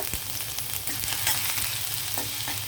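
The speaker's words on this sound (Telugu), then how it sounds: "అల్లం కొంచెం ఆయిల్లో ఫ్రై అయితే బాగుంటుంది" Ginger pieces frying in oil, a close continuous sizzle with light crackles and spatters, heard alone without voices.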